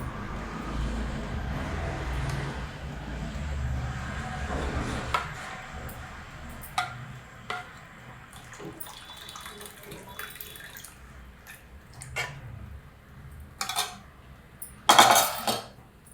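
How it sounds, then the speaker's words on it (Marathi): Coconut ice cream mixture poured into a square container, a soft liquid stream with clinks of utensils and dishes against the container, close and moderately quiet, ending with a brief louder clatter. "आता मी ह्याच्यामध्ये ओतते"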